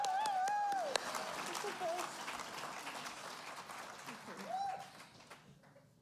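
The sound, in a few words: audience applause at awards concert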